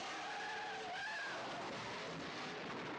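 A car's tires skid and squeal in a James Bond Goldfinger film scene, a loud screeching slide with a wavering pitch that turns into a rough roaring rush of road noise before ending abruptly.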